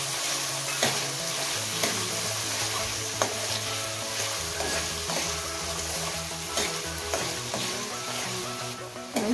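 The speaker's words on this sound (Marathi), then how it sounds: "आता कांदा थोडा वेळ परतून घेऊया" Onion and tomato sautéing in a pan, a steady close sizzle broken by the scrape and clatter of stirring throughout.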